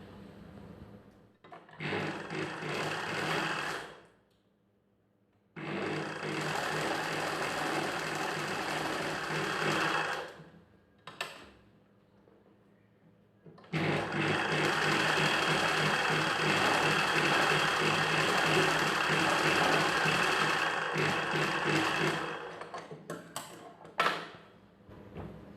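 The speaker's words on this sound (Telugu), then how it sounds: "రెండో వైపున కూడా ఈ చంక దగ్గర నుండి కింద వైపున వరకు స్టిచ్ చేసుకోవాలి." Sewing machine stitching the side seam of a child's silk pattu langa (pattu pavadai) skirt, from the armhole down to the hem, running in three sustained bursts of several seconds each with brief pauses between, close and steady.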